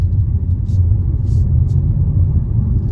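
A 2022 Kia Soul Turbo accelerates gently on light throttle, a steady low engine and road rumble heard from inside the cabin, loud and even throughout with no talking.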